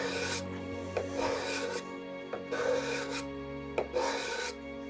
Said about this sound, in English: on the jarrah, which is a nice hardwood, we can see we're getting very fine shavings as well.